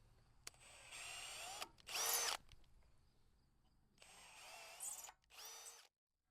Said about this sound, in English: I'm going to re-tap every hole in this slider just to clean those threads out